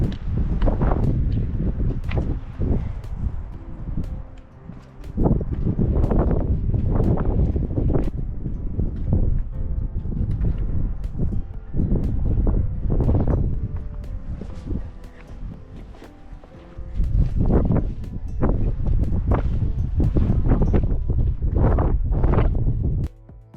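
Strong gusty wind buffets outdoors on a cloudy, cold hiking trail in a national park, with loud microphone rumble rising and falling in repeated bursts and no talk.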